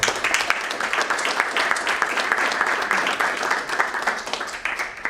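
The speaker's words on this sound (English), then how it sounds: "please give a big applause to them" Audience applause for a panel at the close of a conference session on propaganda and strategic communications, a dense, steady wash of many hands clapping that carries on throughout and tapers slightly at the end.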